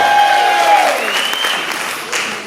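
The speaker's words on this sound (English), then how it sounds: "Y'all give her a strong round of applause." A school-hall audience at a Kwanzaa celebration gives a round of applause, a dense, loud wash of clapping that fades gradually, with a held tone at the start and crowd noise beneath.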